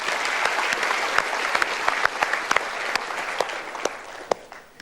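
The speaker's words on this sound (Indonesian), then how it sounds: "Kita berikan tepuk tangan." Studio audience applause on the Mario Teguh Golden Ways talk show in Jakarta, a lively burst of many hands with sharp individual claps popping out of the crowd sound, fading slightly toward the end.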